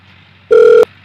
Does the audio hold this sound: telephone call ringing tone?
yes